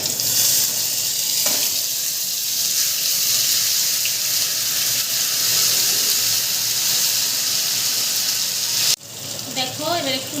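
Spice paste sizzles as it hits hot oil seasoned with cumin in a pan, a steady loud hiss that runs on and on, then breaks off near the end as a voice starts talking over it.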